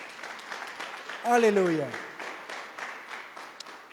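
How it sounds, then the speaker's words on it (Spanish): A church congregation claps along steadily in the background while a voice calls out over the rhythm, its loud sung word rising above the clapping midway through. "Dale palmas a Jesús, mi amado"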